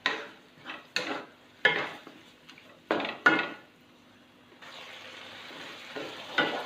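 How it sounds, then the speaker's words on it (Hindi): Minced meat frying on a tawa over low to medium heat with steady sizzling, punctuated by several loud scrapes and stirs of a utensil against the pan. "बिल्कुल हल्की से दरमियानी आंच पर इसको भुनेंगे हम"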